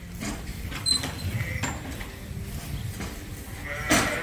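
Sheep in a shearing barn on a hot day, with several bleats and shuffling noises close by, alongside some clanking mechanical sounds.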